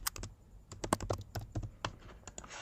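Fingers type on a computer keyboard in quick, uneven bursts of crisp key clicks, close and clear, with no talk.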